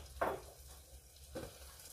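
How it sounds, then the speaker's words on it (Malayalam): Half a teaspoon of coconut oil sizzling softly in a hot pan, a faint steady fry with two brief louder crackles near the start and middle. "അതിലേക്ക് 1/2 ടീസ്പൂൺ വെളിച്ചെണ്ണ ഒഴിച്ചു കൊടുക്കാം"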